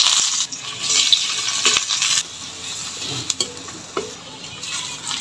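Chopped onions tipped into hot oil in a pan as a spiced meat masala is started for a home-style black-cooked broiler chicken curry; a loud sizzle and stirring scrape for two seconds, then quieter frying with clinks of the spoon.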